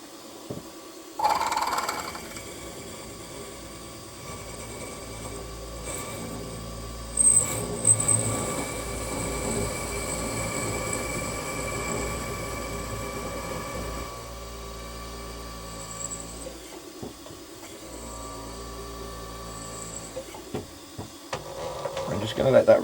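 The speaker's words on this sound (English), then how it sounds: "I'm just going to let that reamer go a bit deeper through" An 8mm reamer works through a metal quill plate on a machine, a steady mechanical hum and whir with faint grinding and a few clicks, fairly quiet throughout.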